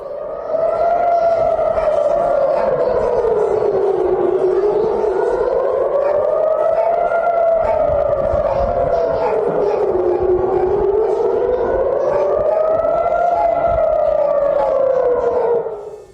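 Air raid sirens wail in Israel during rocket attacks, a loud rising-and-falling howl that cycles steadily without pause, with no talk over it.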